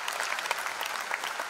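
Audience at a Hindi kavi sammelan poetry event applauding a poet, a dense steady patter of many hands clapping at moderate distance with no voices over it.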